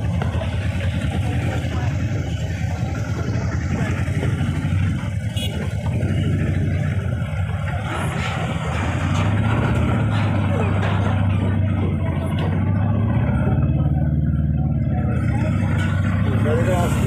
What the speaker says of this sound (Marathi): लई ट्रॉफिक लावली